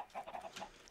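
A Minecraft chicken clucks in short soft bursts, several quick clucks in about a second, quiet and alone.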